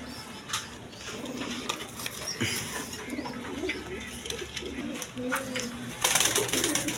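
Several pigeons kept for sale coo in low, rolling bursts close by, their calls overlapping with a voice talking and some faint patter in the background.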